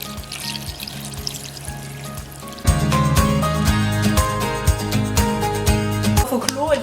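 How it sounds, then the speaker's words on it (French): Water pours steadily over vegetables seasoned with pepper and curry in a pan, a loud continuous gush with rattling splashes as the pan fills. "Et on recouvre tout avec de l'eau."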